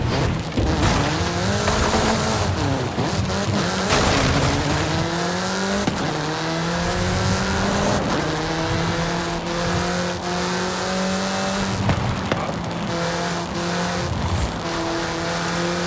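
Car engine in Forza Horizon 5 accelerating hard through rising gear sweeps with repeated shifts, loud and close, with tires squealing as it speeds up and turns toward the countryside.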